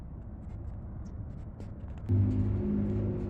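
A Ford V10 6.8 engine in a lifted Econoline camper van idles with a low, steady rumble, then rises into a louder, fuller drone partway through, heard close with no talking.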